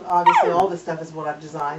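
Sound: puppy crying in the background

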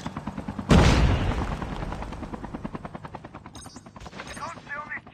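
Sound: helicopter in Call of Duty video game

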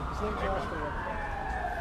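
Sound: police car siren passing by

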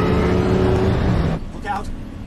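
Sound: Batmobile driving in The Dark Knight film

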